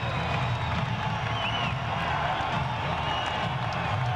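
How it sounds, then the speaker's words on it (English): An arena crowd at a 1996 MMA event roars steadily as a fighter makes his entrance, a constant loud wash of cheering and clapping with a faint whistle, and a commentator speaking over it. "The crowd will handle the roar."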